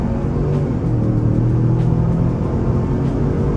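A 2023 Ford Expedition Limited accelerating along a multi-lane highway, with a steady low engine rumble and road drone filling the cabin throughout, loud and continuous with no talking.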